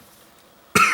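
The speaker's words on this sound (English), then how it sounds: "I'm just having a coughing day" A single sharp cough bursts out loud and close after a near-silent stretch.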